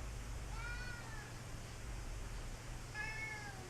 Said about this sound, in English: it's my cat meowing like crazy over here